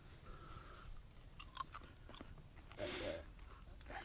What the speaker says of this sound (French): Ça croustille. C'est bon.